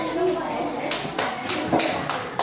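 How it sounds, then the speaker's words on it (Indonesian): A primary school class applauds a student group after its presentation, with loose, uneven hand claps and thumps coming in bursts, close by, mixed with children's voices. "Ya, tepuk tangan untuk kelompok 4."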